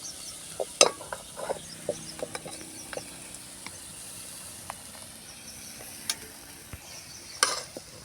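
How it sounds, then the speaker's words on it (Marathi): Brinjal (eggplant) pieces going into a pan with chili powder and being stirred, giving quiet scattered clinks and scrapes over a faint steady sizzle, with a few sharper spoon taps. "तर आता लगेच आपल्याला वांगाटे टाकून द्यायचे त्यामध्ये"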